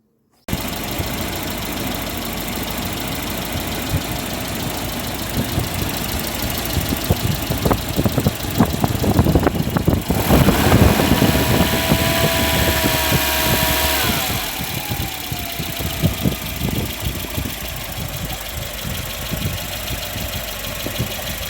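A 1995 Volvo 940 engine runs steadily after a pump repair. A low continuous drone carries faint knocking and ticking, grows louder for a few seconds in the middle, then settles back to a steady idle.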